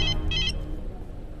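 A mobile phone rings with a bright electronic ringtone in two short chirping bursts over a low background hum, then falls silent.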